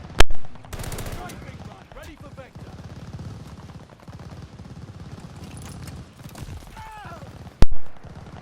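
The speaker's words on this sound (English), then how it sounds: "this is the Browning automatic rifle, shooting at 8 rounds per second" Browning automatic rifle firing rapid bursts in Call of Duty Vanguard, loud sharp shots in fast clusters with mechanical clatter between them, close and punchy, with game sounds in the background.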